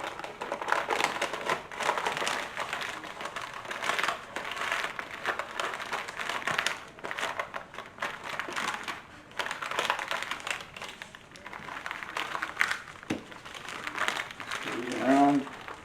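Wrapping paper crinkles and rustles as it is folded and tucked around butchered deer meat, a steady close papery crackle running throughout while a person speaks over it.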